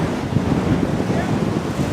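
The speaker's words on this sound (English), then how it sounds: "Wind's starting to pick up here" Steady wind rushes and buffets across the microphone at an outdoor baseball field during a game, a continuous broadband roar with no talk heard.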